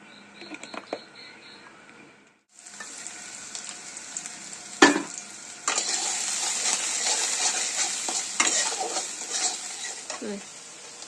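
Oil heats in a pan and onions are added for a stuffed bitter gourd filling. A faint start gives way to a loud, steady close-up sizzle with clatters of stirring and a sharp clank partway through.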